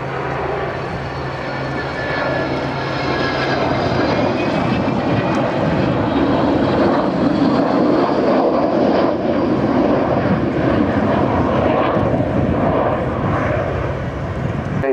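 A large camouflaged Cold War jet bomber roars past at an air show, its loud engine noise swelling and holding steady for about fifteen seconds with no talk.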